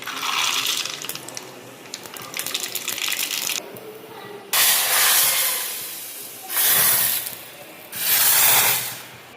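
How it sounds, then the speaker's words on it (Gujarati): Mustard seeds and cumin sputtering in hot oil as a tempering for dal dhokli, heard as loud, close bursts of spitting hiss that flare up and fade several times, with no voices. "અહીંયા આપણે વઘાર ફૂલ કરી દીધો છે રાઈ ને જીરું નાખીને"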